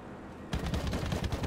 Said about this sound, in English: I feel like it's the 20 mil doing all the work here, and the rockets are just suppressing people.